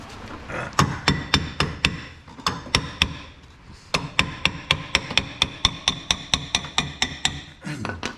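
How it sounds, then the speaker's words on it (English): Sharp metallic hammer strikes on a Morris Minor brake part ring out in a steady rhythm, two bursts of rapid repeated blows separated by a brief pause, loud and close. "Be very careful when you're using a hammer like I just did."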